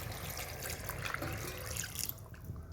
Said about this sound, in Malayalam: ഇതിലേക്ക് നമുക്ക് സ്വല്പം വെള്ളവും കൂടി ഒഴിച്ച് കൊടുക്കാമേ